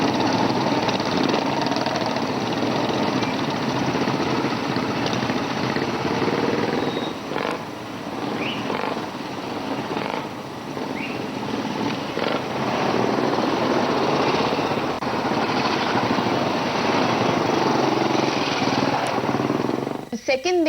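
Royal Enfield Himalayan motorcycle engine under way on a ride from Chandigarh toward Manali, a loud, steady droning roar that holds for the whole stretch with only slight dips.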